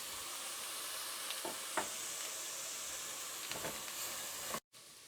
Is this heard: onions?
yes